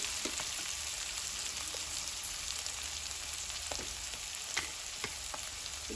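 Fresh fenugreek leaves (methi) fry in a hot pan with a constant, even sizzle, punctuated by occasional faint pops and spoon taps.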